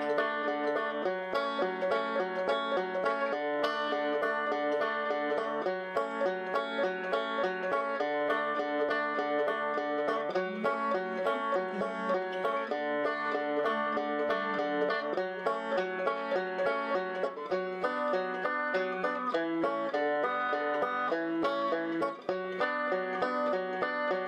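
A banjo picks a pinched, multi-string fingerpicked pattern, steady and close with a dense, even rhythm and bright plucked tones for about twenty-four seconds, no talking.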